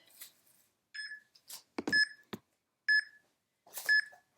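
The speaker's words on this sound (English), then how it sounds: "let me get my timer here" An exercise timer beeps in a quiet room, four short, clear electronic beeps spaced about a second apart, mixed with soft clicks and rustling of handling the device nearby.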